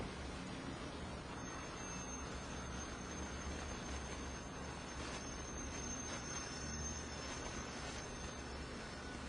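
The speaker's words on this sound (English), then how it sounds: "that is the train behind my office here" A train passes behind an office, making a steady, muffled rumble with a thin, high wheel squeal running along it. The sound stays faint and distant from start to finish.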